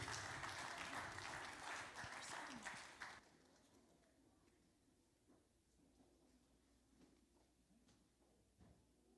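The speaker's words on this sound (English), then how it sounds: "Everybody give a round of applause for group 2." Applause from an audience at a children's White Sunday church service, a dense burst of clapping for the first three seconds that quickly fades to quiet room murmur.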